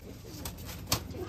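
Pigeons coo softly at a pigeon sale, low murmuring calls close by, broken by a couple of brief sharp rustles or knocks.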